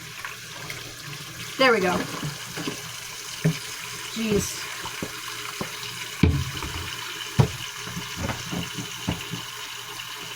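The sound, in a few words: tap water running into sink for washing dishes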